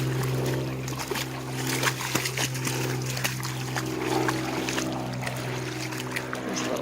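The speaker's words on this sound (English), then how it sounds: "There's a little float plane going over." A small float plane passes overhead at Silent Lake Provincial Park, giving a steady low droning engine hum that carries through the whole stretch, with faint trickling water and light outdoor rustle around it.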